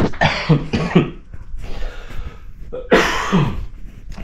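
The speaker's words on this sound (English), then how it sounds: "Oh man, I hope I'm not getting that cough." Several harsh coughs close by, a cluster of them early on, then a quieter breathy stretch, then another strong cough.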